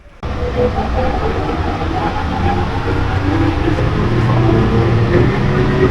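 An airport metro train carries passengers to the terminal, its loud, steady rolling rumble and hum filling the cabin after a short quiet start, with no talk.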